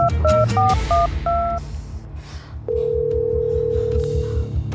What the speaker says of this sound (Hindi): फोन कहा चला जाता है ये लड़का प्रीति को कॉल करती हूँ